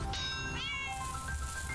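A cat in a video game gives two quick, clear meows in close succession, followed by softer whining tones over a steady background hum.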